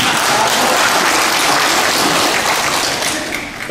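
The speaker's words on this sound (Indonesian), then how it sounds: "Tepuk tangan." Loud, dense applause from an audience at an Indonesian forum on creating new autonomous regions, a continuous wash of many hands clapping close up that tapers slightly at the end.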